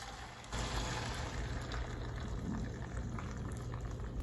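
An egg hits hot oil in a pan of frying plantain, setting off a dense, steady crackling sizzle that jumps up early and then carries on evenly, fairly quiet and close.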